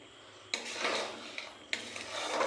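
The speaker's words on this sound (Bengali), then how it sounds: "এইভাবে ভালোভাবে নাড়তে হবে" Coconut sandesh mixture being stirred in a pan, two distinct scraping strokes of a spatula against the pan with soft rubbing between them, close and fairly quiet.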